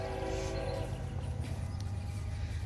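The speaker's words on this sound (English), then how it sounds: "you do hear the train fairly often" A train passes near a rural homestead close to the tracks, a steady low rumble running throughout with a tonal horn-like note early on, heard from a distance.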